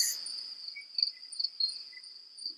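Crickets chirp in steady repeated high trills, close and clear, against an otherwise quiet background.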